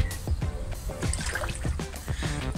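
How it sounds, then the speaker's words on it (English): Water sloshes and trickles as someone lowers themselves into a cold swimming pool, with repeated splashy movements up close. "I'm gonna try and get into the water"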